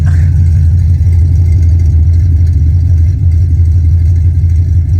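A 1995 Ford Mustang GT rumbles at idle with its underbody exhaust close by, a loud, steady low growl that holds through the whole stretch with no voices over it.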